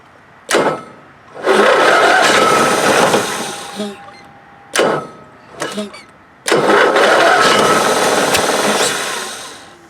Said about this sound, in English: Yeah, so it fires up a little bit.